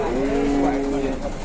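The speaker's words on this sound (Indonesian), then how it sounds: "Ini yang sapi betina turun." A large cow gives one long, low moo, steady and fairly close, while being unloaded at a market, over a busy background murmur of onlookers.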